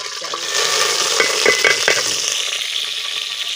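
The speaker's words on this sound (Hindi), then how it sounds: "हाँ घी आवाज दे रहा है तो घी डाल दो" Ghee sizzles steadily in a cooking pot with masala, a continuous frying hiss that stays close and fairly loud, with a few faint clinks of stirring and no voices.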